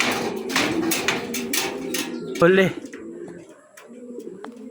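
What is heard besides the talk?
pigeons cooing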